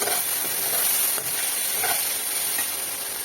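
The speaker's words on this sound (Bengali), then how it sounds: "এগুলো ভালো করে ভাজা হয়ে যাবে, তারপরে গুঁড়ো মশলা দেবো।" Potatoes fry in a pan with a loud, steady, close sizzle, an even hissing crackle that holds at the same level throughout.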